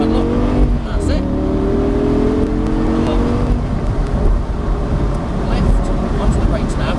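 Supercar engine, from a Ferrari and Audi track drive day, revving hard through a lap, a loud steady drone with rising harmonic sweeps and a gear change, while a driving instructor talks continuously over it.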